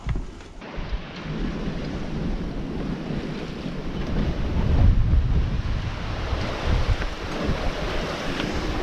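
Steady wind roars across the microphone over the constant wash of ocean waves aboard a sailboat crossing the Atlantic, a dense, rumbling noise with no voices.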